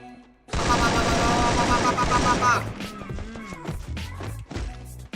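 An M4A1 in Free Fire lets off a dense, loud burst of automatic fire that stops partway, followed by scattered sharper shots and clatter, with a voice talking over the later part.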